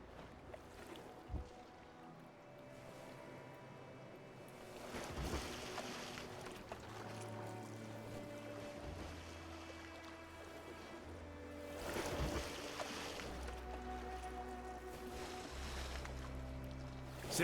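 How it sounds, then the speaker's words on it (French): Oars pull a boat across open water in a tense escape, steady splashing strokes and water wash swelling in two louder surges over a low continuous background, with no talking. "Faut qu'on rame."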